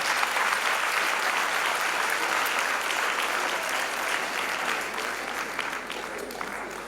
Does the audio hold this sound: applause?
yes